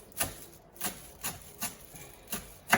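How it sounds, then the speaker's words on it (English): Coriander being finely chopped with a knife on a board, about six sharp separate chops spaced roughly half a second apart, close and fairly quiet with no talking. "So just chop it, but it needs to be fine while chopping, but not blending too fine."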